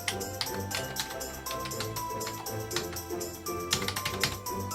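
Quick, irregular tapping of keys on a Bluetooth keyboard paired with a smartphone sounds close and fairly faint, clicking in uneven bursts with no talking.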